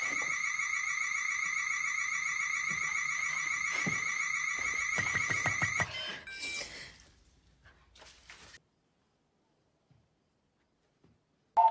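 A home security alarm in the 2022 horror film Smile blares as a loud, steady electronic tone with pulsing overtones, then cuts off abruptly halfway through, leaving faint rustles and near silence.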